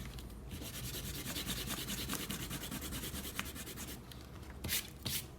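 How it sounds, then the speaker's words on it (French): Rubber eraser scrubbing pencil construction lines off drawing paper, close and quiet, in rapid back-and-forth strokes that come in a dense run of short rubbing bursts. "on peut gommer nos traits de construction."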